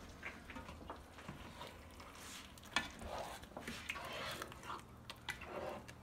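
A spoon stirs a creamy meatball mixture made with milk, yogurt and sour cream in a pot, giving soft irregular scraping and wet squelches, fairly quiet, with faint background noise.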